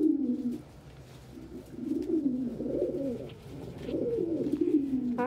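A pet pigeon or dove coos in soft, repeated rolling phrases, close and moderately quiet indoors with no talk.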